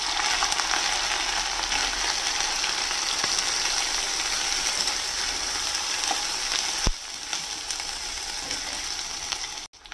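Dried fish fries in hot mustard oil in a pan, giving a steady, dense sizzle that crackles evenly throughout, with one sharp click partway through and no talking.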